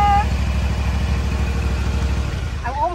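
A zero-turn lawn mower engine idles with a steady, throbbing low rumble close by; brief voice-like sounds come at the start and end.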